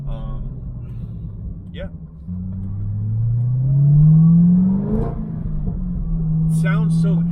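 A Chevrolet Corvette ZR1 accelerates onto a freeway, its engine note rising steadily in pitch through a strong pull before settling into a steady cruise, with a brief spoken word early on.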